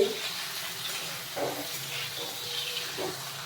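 Fish head frying in a pan: a steady close hiss of hot oil with a couple of soft bumps from the pan, no voices.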